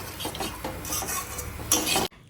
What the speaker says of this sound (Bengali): আলুটা ভেজে নিচ্ছি, তারপর চিড়ে দিয়ে দেবো।